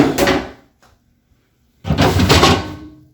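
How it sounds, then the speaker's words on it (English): Two drawers slide out of a cabinet, each a short, close scraping pull with a gap of silence between them. "Pull out the drawers."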